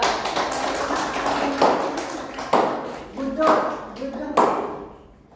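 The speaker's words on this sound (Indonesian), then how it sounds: "Tepuk tangan dulu dong buat kelompok dua." An elementary school class gives group two a short round of clapping in the classroom, uneven and fairly close, with voices talking over parts of it.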